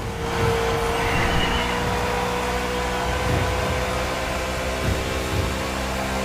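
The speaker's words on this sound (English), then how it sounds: "Wow, that 61 car is flying." A race car engine in the video game The Crew Motorfest roars steadily and loudly for the whole stretch, with a broad rumble and whine holding constant and no speech over it.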